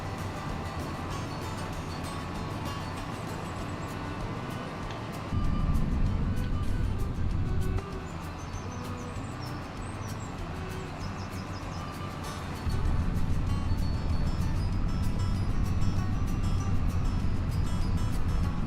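A tractor engine runs steadily in a farming video game, a close, continuous low drone that swells louder around five seconds in and again from about twelve seconds on.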